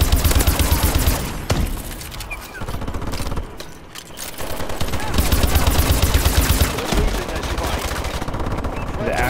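Ohm gun from Call of Duty: Advanced Warfare firing long, rapid automatic bursts, loud and close, with a brief pause midway before the chattering fire resumes.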